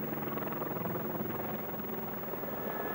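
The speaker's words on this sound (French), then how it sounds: "on entend l'hélicoptère que lorsqu'il en sort, ce qui est non négligeable pour le voisinage" Helicopter climbing out of a mountain gorge after takeoff, a steady broadband rotor and engine roar, fairly distant and constant throughout.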